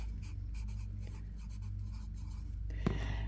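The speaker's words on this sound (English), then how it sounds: "So I'm going to write that down on my list." A pen writes on a paper list with soft scratching strokes in short bursts, faint and close over a low background hum, ending with a slightly louder scrape.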